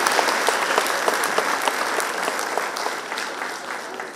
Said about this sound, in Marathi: जरा टाळ्या वाजवल्या तर काय हरकत नाही पुन्हा एकदा